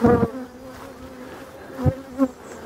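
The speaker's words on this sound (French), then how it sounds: "c'était les abeilles de la forêt." A loud, close drone of forest honeybees at an open hive during beekeeping work, with a few sharper buzzes as single bees fly right past.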